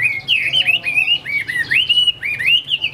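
A Chinese hwamei songbird sings close and clear, a rapid run of bright warbling and trilled phrases with quick upward sweeps, repeated continuously over faint background noise.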